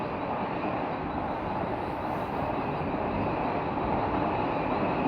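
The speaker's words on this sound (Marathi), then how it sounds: "ही वंदे भारत आहे, वंदे भारत शिर्डी" The Vande Bharat Shirdi express train rushes past close by in a steady, dense roar of wheels and rails that holds at the same level from start to finish, with no voices.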